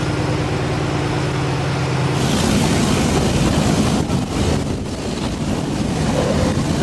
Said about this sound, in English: Riding on top of a train